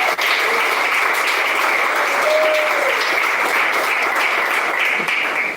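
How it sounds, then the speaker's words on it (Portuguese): A church congregation claps in a continuous, even wash of applause, loud and sustained throughout with no break. "Pode bater palmas, glorifica a Deus."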